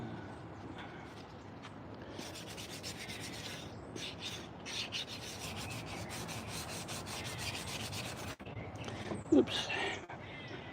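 Hand-sanding of a carved wooden spoon shaped with primitive tools outdoors, a steady close rasping rub running for most of the time, with a brief louder knock near the end.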